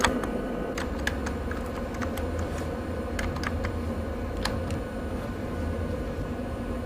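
Keys clack on a Commodore computer keyboard in a quick, irregular series of light taps over a steady, loud hum of background noise.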